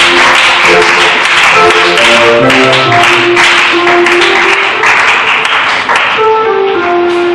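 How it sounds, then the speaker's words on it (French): A church congregation claps in acclaim of a scripture reading, a dense, steady wash of applause that stays loud throughout, with organ or keyboard notes sustained beneath it. "Nous acclamons encore cette portion d'écriture."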